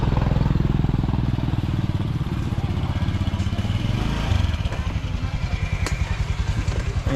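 Motor scooters buzzing along a rice field path in Ubud, Bali, a fairly near puttering engine drone with rhythmic pulsing that shifts pitch as one passes, plus light clattering.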